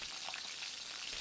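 Fish roe frying in a pan in a cartoon kitchen gives a steady, bright sizzling hiss with small crackles throughout the short moment.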